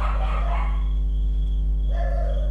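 Dog barking in the horror video game Bloodwash, a couple of short muffled barks near the start and end over a loud steady low electronic hum and drone.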